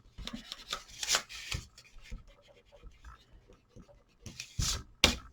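Eraser rubbing out pencil lines on paper while a small house-shaped box is made, giving quick, close scratchy strokes in bursts with short pauses between them.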